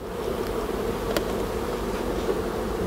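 Dense, steady buzzing of many honeybees close around the hive during a spring inspection, a continuous droning hum with no pauses.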